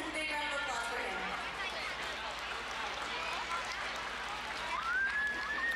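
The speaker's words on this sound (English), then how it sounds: "Big round of applause for him." An outdoor crowd at an El Paso winter festival gives a big round of applause for a colonel from the 1st Armored Division at Fort Bliss, a dense, fairly distant wash of clapping that stays steady throughout.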